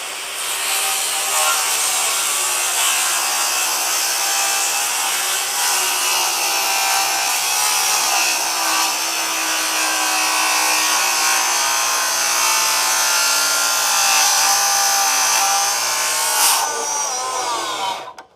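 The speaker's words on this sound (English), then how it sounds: "you shouldn't probably be making cuts like this with a Diablo saw blade" Circular saw fitted with a thin Diablo blade cutting through hardwood while preparing slabs for an epoxy river table, a loud, steady whine and grinding rasp running for about seventeen seconds before stopping abruptly.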